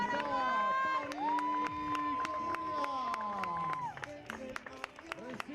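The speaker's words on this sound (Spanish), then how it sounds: "Recibe la ovación." A stadium crowd at the XII South American Games in Asunción 2022 cheers and applauds an athlete, a sustained roar with scattered claps, heard beneath a sustained tone and a commentator's voice.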